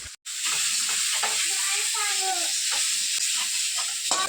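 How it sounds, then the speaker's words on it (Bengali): Dandakalas (dulfi) leaves fry with garlic and chilli in a hot pan, starting with a sudden loud burst of sizzling that settles into a steady hiss, broken by the scrape of stirring. "দণ্ডকলসের পাতাটা আমি এর মধ্যে দিয়ে ভালো করে নাড়াচাড়া করে নিচ্ছি"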